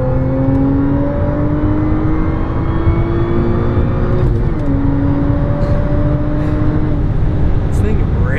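A V8 S4 and a non-turbo Veloster race, their engines revving with a loud, whining note that climbs steadily, under muffled talk.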